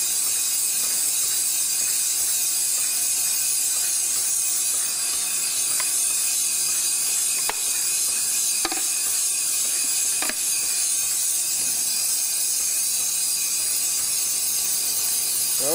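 A Moore No. 3 jig grinding machine runs with its guards removed, giving off a constant loud mechanical whir and hiss with a few sharp ticks and clicks scattered across the steady drone.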